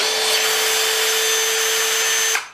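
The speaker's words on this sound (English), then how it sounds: "Now I'll pop these screws out." A Hitachi DV 18DBFL2 cordless drill backs screws out of wood, giving a steady, loud motor whine that runs without a break for about two and a half seconds and then cuts off.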